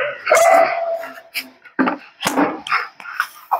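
A dog barks and yips in several sharp, loud bursts close by, with short pauses between them, at a house where a cobra has been found in Madurai.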